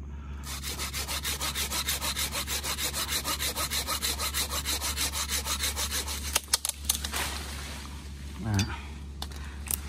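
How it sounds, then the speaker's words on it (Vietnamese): A circular saw cuts through an avocado tree trunk in steady, rhythmic strokes, then stops, followed by a few knocks and rustling. "Mình sẽ dùng cưa lốc, mình cưa từ từ"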